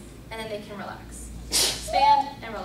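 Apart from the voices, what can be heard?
a sneeze in the classroom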